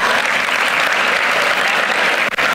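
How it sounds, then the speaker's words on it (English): Students in an induction session clapping for a classmate, a loud dense burst of applause that holds steady, then breaks off abruptly at the end. "Clap for Ramya"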